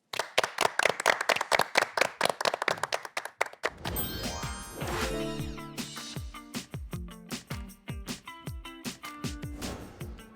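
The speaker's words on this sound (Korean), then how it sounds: "기석철 교수님을 박수로 맞이합니다." An audience at a science concert lecture claps in a quick, dense burst of applause for a 10-second stretch, then it gives way to bright music with a swelling, sweeping melody.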